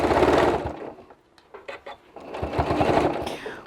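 A sewing machine stitching an ice cream cozy runs in close, steady bursts, whirring loudly, pausing briefly midway, then resuming with a long continuous run.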